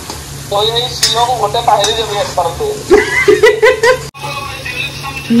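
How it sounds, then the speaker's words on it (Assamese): Local chicken frying with ginger, garlic and onion in a pan, a steady sizzle and stirring running beneath voices talking and laughing nearby. "মাংস কেইটা দিলে আদা নহৰু পিঁয়াজ পুৰা কাঢ়াকে ভাজি লৈ"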